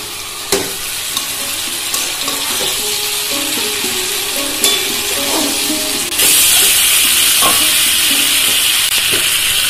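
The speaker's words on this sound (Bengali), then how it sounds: "দিয়ে মশলার সাথে একটুখানি কপিটা নাড়িয়ে নেওয়া হবে" Fried cauliflower stirred into spice masala in a pan for aloo phoolkopi dalna, with loud steady sizzling and irregular spatula scrapes and knocks close by, and the hiss surging brighter partway through.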